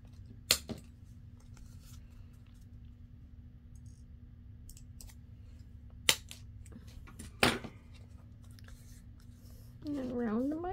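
A few sparse, faint scissor snips cut paper for small coin envelopes, with long quiet gaps between cuts and a short burst of voice at the very end.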